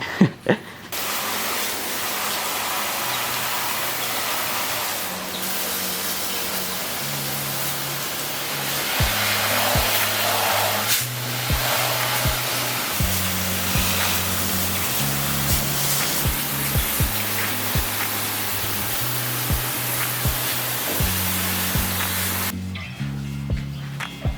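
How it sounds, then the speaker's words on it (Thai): A blower roars continuously as it dries off a freshly washed motorcycle, a loud steady rushing air sound lasting over twenty seconds, with a low tonal hum underneath and a cut-off at the end. "เดี๋ยวเสร็จแล้วเดี๋ยวผมมาเป่าให้แห้งนะ"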